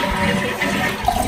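A toilet flushes during a fill valve replacement with the water supply shut off, a steady close rush and gurgle of draining water running through the whole stretch with no talking.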